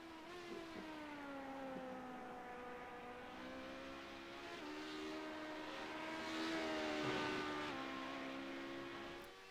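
A Honda LMP2 prototype race car in a racing video game sweeps past with a rising and falling engine drone, harmonic whine shifting pitch as it approaches and recedes, fairly quiet and alone.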